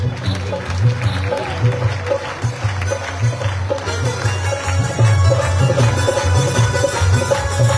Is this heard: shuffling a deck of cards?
no